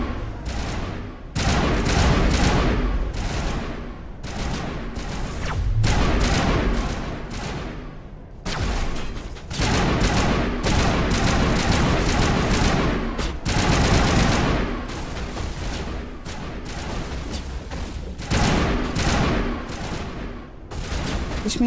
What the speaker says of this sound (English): Give me assault rifle, that's better.